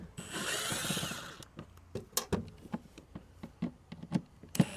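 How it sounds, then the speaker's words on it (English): A Phillips driver removes screws from a Milwaukee Packout tool box: a short whirring run up close, then a string of sharp clicks and taps from the screws and the case. "it looks like we need a Phillips driver to remove this screw"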